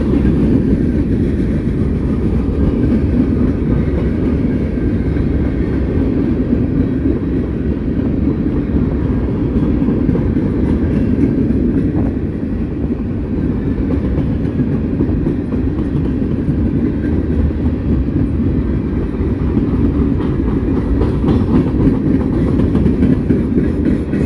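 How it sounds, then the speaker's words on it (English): A Norfolk Southern mixed freight train with boxcars rolls past at close range, producing a loud, continuous rumble and rattle of wheels and cars with faint rhythmic clacking, steady throughout with no talking. "9 Norfolk Southern boxcars right there."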